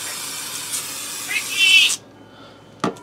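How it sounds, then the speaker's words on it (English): Olive oil spray hisses onto chicken breasts for an air fryer recipe in one steady burst of about two seconds, close and fairly loud, followed by a short click. "I'm gonna start by spraying them down with some olive oil."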